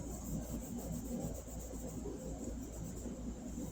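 Sanding a wooden Telecaster guitar body: a faint, even scraping rub repeating in quick strokes, close and steady, with no talk.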